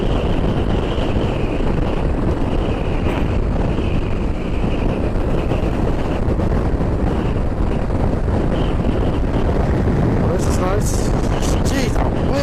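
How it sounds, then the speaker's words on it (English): Strong wind buffets the microphone while riding a motorbike along Scotland's North Coast 500, a constant loud roar filling the clip, with a few higher whistling gusts near the end. "that wind is unbelievable"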